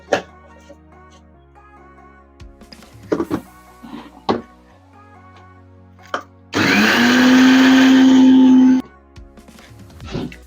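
A mixer grinder grinds flattened rice, whirring loudly for about two seconds with a steady high motor drone, amid light kitchen clatter and brief knocks before and after.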